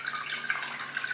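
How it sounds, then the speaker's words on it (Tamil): Water poured into a pressure cooker on a kitchen stove while making vegetable soup, a steady close splashing and trickling stream heard alone for a moment. "வச்சுட்டு ஃபஸ்ட்டு இதில் தண்ணி விட்டுருவோம்."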